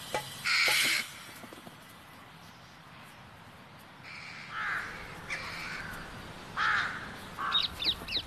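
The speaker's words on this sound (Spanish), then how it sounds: "Dos plantas más abajo, una corneja negra está poniendo la mesa." A carrion crow caws in a series of harsh, loud calls spread over several seconds, with pauses between bursts and a faint outdoor background.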